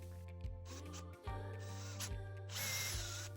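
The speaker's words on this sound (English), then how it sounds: "And then I'm going to drill the holes for these little casters." A power drill bores holes for small casters on a table saw setup, its motor whirring in several short bursts with pauses between, close and fairly quiet, with no talking.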